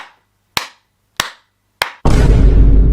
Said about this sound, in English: I think Dad's finally on his way because I can hear clapping.